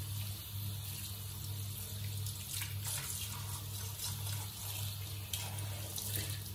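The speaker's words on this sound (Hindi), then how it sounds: "पहले अच्छे से बालों को पानी के साथ आप एक बार धो लीजिए।" Tap water runs steadily while hair is washed, a continuous rushing splash with light irregular spatters, close and even throughout with no talking.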